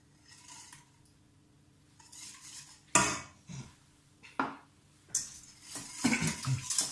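Ginger cake ingredients, egg included, being combined in a bowl, with a spoon or utensil clinking and scraping against the sides in separate bursts between quiet pauses, close and fairly loud.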